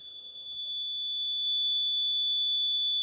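A steady high-pitched electronic buzzer tone sounds continuously, growing slightly louder after the first second, with faint low rumbling underneath.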